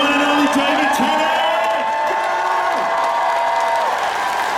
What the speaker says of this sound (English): Make some noise for the one and only David Tennant.